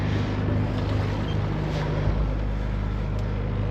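A sailboat's inboard engine idles at low revs, around 1500 rpm, on a crossing from Guadeloupe to Antigua, a steady low droning hum with wind and water wash over it.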